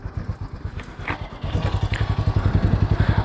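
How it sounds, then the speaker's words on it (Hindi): Harley-Davidson X440 motorcycle exhaust at idle, a close, loud, rhythmic low thumping that steps up slightly in level partway through and then keeps an even pulse. "ये है आइडल का एग्जॉस्ट साउंड"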